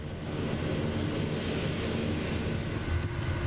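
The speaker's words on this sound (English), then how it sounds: "in case you guys want to hear that engine right there" The engine of a SimWorks Kodiak 100 in Microsoft Flight Simulator 2024 drones steadily, a dense, even propeller-turbine roar that holds constant and fairly loud without any speech.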